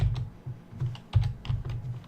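Rapid typing on a computer keyboard, a quick run of close, crisp key clicks in an uneven rhythm with no talking.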